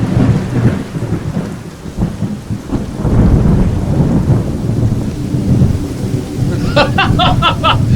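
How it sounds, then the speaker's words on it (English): Rolling thunder from a radio-play storm scene rumbles loudly and steadily with rain throughout, ending with a few rhythmic clicking bursts near the close. "As thunder sounds,"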